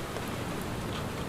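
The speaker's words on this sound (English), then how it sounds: "This is our first rain of the year." Dense, steady rain falls in a continuous hiss, with no other sounds.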